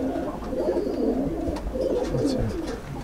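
Pigeons cooing inside a loft, including a breeding pigeon blind in one eye, a close, continuous throaty burble of overlapping coos throughout.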